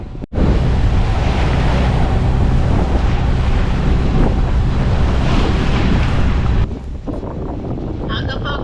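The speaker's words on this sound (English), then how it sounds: "because the waves are big" Big ocean waves crash and surge around a sailboat at sea while strong wind buffets the microphone. The roar is loud and continuous, with a brief dip near the end.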